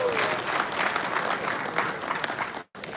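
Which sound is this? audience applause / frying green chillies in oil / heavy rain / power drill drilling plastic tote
audience applause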